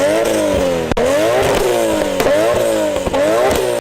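A car engine revs hard in repeated rising and falling sweeps, loud and close, with a few sharp pops between the pulls.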